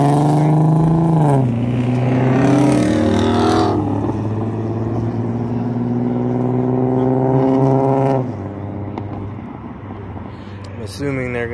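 Loud Lexus IS-F engine revving up and shifting through gears nearby, pitch climbing and dropping, then settling into a lower drone.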